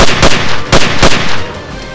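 Gunfire in an animated web series, several loud rapid bursts of shots in quick succession with a rumbling tail.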